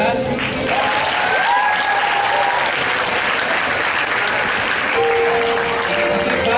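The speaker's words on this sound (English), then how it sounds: "Let's give him a round of applause for the last week." Sustained audience applause at a multicultural night of worship, loud and dense for the whole stretch, with cheers and voices mixed into the clapping.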